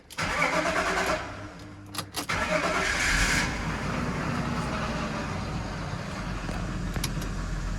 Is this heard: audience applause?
no